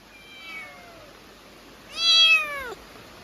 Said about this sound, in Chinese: 很熟啊，这只猫啊，一放下来它不跑。